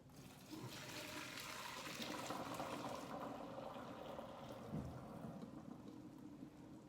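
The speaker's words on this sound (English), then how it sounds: "I'm going to grab our noodles here, and we're gonna dump the water off." Spaghetti pasta water pours into a folding colander in a kitchen sink with a steady, soft rushing splash and gurgle that swells briefly near the end.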